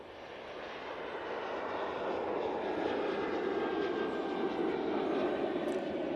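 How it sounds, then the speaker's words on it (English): An Etihad airliner in old livery, inbound from Abu Dhabi, turns onto final approach at Manchester Airport, its jet roar building steadily from moderate to loud and holding as a broad, continuous rumble with a faint whine. "We do have the Etihad in the old livery about to turn on to final."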